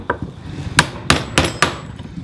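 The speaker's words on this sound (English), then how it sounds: "I use a old-timey wood chisel and a hammer" Hammer blows on an old-style wood chisel driving into a wooden block, several sharp, loud knocks at irregular spacing, close up, with no voices.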